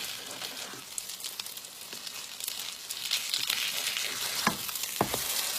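Corn cakes sizzle steadily in a frying pan, a close, continuous crackling hiss, with a couple of sharp scraping clacks toward the end as they are flipped.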